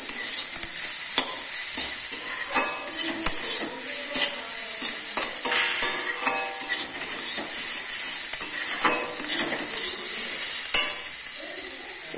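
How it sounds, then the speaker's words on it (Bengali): Vegetable chili chow mein is stir-fried in a hot pan, with steady sizzling under repeated scraping and clinking of a utensil against the metal throughout. "সস দিয়ে একটু চিলি চাউমিন মতো করব"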